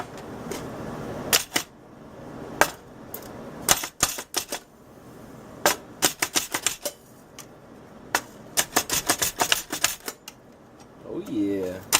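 A manual pull-cord chopper dicing onions and peppers for homemade pork enchiladas, sharp rapid clacking bursts in irregular clusters, close and loud, with brief talk between the rattles.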